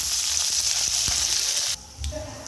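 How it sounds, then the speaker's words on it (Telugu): Tempering spices, peanuts, green chillies and curry leaves fry in hot oil for pulihora, giving a loud, continuous sizzle that suddenly drops to a quieter crackle near the end. "అలానే పచ్చిమిర్చి, కరివేపాకు కూడా వేసుకుందాం"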